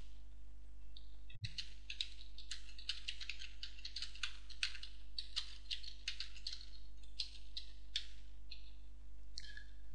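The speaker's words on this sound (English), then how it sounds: "The user then types in their requirements." Rapid typing on a computer keyboard, a steady run of quick clicking keystrokes with brief pauses, close and fairly quiet over a low constant hum.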